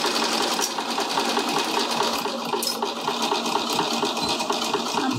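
Sewing machine stitching fabric for a zip pouch, a steady, close, loud mechanical whir with fast rhythmic needle clatter running without a break.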